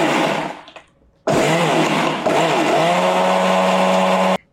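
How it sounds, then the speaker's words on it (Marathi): Kitchen mixer grinder whirring as it blends sugar, lemon juice and salt, a loud close motor whine in two bursts after a brief run that winds down, with short pauses between them. "आता हे मिक्सरला फिरवून घ्यायचं"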